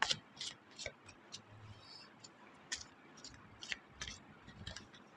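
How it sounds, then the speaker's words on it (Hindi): Tarot cards being shuffled, a close series of light, crisp flicks and taps in an uneven rhythm over a quiet background. "Let me shuffle cards for you."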